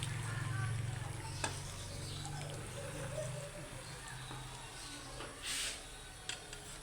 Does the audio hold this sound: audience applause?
no